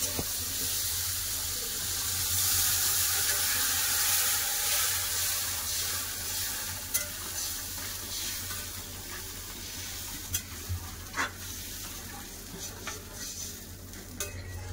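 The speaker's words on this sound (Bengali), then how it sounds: "এবার জল দিয়ে দেবো।" Continuous close sizzle and bubbling as water is added to fried pumpkin in a pan, with a few sharp metallic clinks of stirring, no voices.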